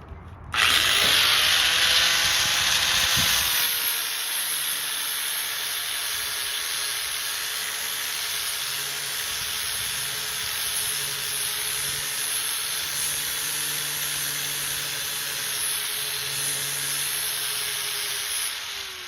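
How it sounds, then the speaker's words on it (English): A grinding tool sharpens the metal cutting edge of a garden tool, starting with a loud spin-up and then settling into a steady, sustained high-pitched whine that runs close and uninterrupted for nearly twenty seconds. "It's also a grinding tool when we start working on this edge, which is actually the cutting edge of the tool."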